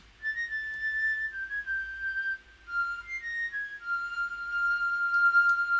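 A breathy flute-like melody with a soft, wavering chorus shimmer, holding long sustained notes with a brief gap midway.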